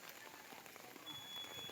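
Steady rain falls outdoors, a dense even hiss of drops on surfaces, fairly faint and continuous with no talking.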